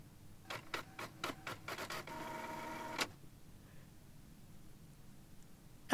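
A printer in a video game runs through a quick series of sharp mechanical clicks, then a short buzzing feed pass, and falls quiet. It is fairly close and clear, with no talk over it.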